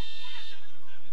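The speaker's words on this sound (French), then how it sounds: "Alors qu'une alarme de voiture se fait entendre." A car alarm near an outdoor soccer field, a steady electronic tone held throughout behind continuous commentary.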